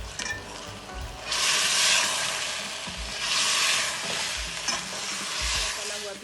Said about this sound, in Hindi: अच्छी तरह भून लेंगे चिकन को।